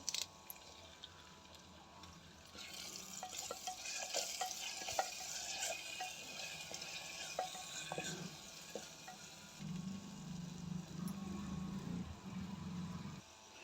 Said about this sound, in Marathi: आणि याच फोडणीमध्ये थोडा कढीपत्ता घालायचा